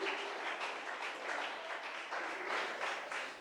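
A church congregation applauds warmly during a service, a dense wash of many hands clapping at once, fairly distant and steady for a few seconds.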